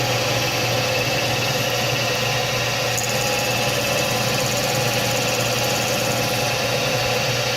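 A Hypertronics KA 300 series connector jack screw being machined by hand, with a steady droning machine hum carrying faint high whine and tonal overtones, continuous and even throughout.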